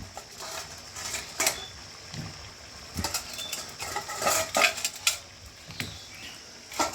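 Potatoes tumble into a pot of mutton curry, a scatter of clattering, pattering knocks against metal with soft stirring and faint sizzle underneath, close and moderately quiet, no one talking.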